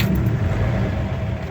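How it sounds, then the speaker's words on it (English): A 1952 Ford truck engine turns over and runs, a steady close rumble filling the moment with no break and no talk. "GMech Senior is going to fire up his old truck here"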